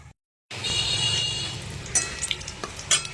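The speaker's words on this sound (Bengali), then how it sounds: "এবার আমি দিয়েছি, দেখো, কড়াইতে তেল আর একটু কালো জিরা" Black cumin seeds and bay leaf hit hot oil in a wok, starting after a short silence with a sudden bright sizzle that settles into steady crackling, with a few sharper pops and spatula taps near the end.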